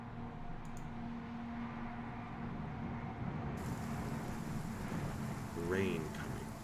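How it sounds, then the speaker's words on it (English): Steady rain hisses across the whole clip with a low rumble underneath, growing slightly heavier near the end. "rain coming."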